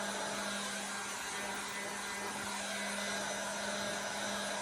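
Heat gun blowing hot air to dry freshly painted edges on an upcycled Dollar Tree sign, a steady, loud whooshing roar with a constant motor hum throughout and no talk.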